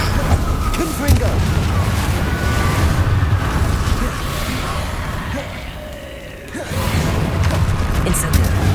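Confringo spell blasts booming in the Hogwarts Legacy video game, loud and dense over continuous battle noise, with a brief lull near the end before the roar returns.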